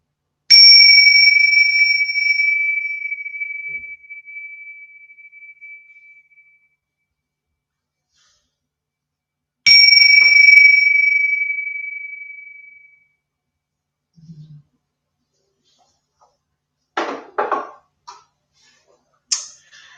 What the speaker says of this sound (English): So I'm just going to ring this bell and bring us into presence.